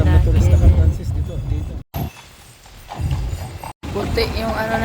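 Horse-drawn carriage hooves clip-clopping on a street in Interlaken, Switzerland, with a steady nearby rhythm mixed into traffic and chatter; people talk throughout and the sound drops out in two brief gaps.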